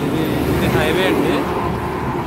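Traffic on the NH 16 highway between Anakapalli and Yelamanchili, a dense steady roar of passing vehicles, heard close by with a voice over it.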